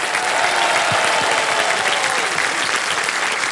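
Steady, loud audience applause fills a quiz show studio without a break, a dense wash of clapping with no voices on top.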